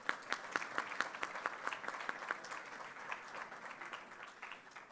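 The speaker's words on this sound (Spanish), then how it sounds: "Les agradecería un aplauso para nuestro primer ponente." Applause from a conference audience at a national radio and television week event, welcoming the first panel speaker: steady clapping from a sizable crowd, moderately distant and continuous for the whole stretch, with no one talking over it.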